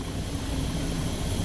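A rescue helicopter of the German federal police flies over water toward the shore. Its engine and rotor roar is steady, loud and dense, with no voices over it.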